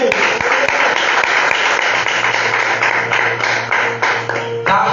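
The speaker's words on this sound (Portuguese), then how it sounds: "Aplauda Jesus." Loud, continuous congregational clapping during a church teaching service, close and dense, with a low steady hum underneath and a sharp burst near the end.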